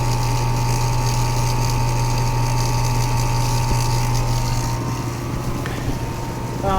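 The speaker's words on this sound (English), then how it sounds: "Compressor making some noise. Sounds like the compressor has rocks in it." A noisy American Standard air conditioner compressor runs outdoors with a loud steady low hum and a rough, gravelly rattle layered over it, close and continuous throughout.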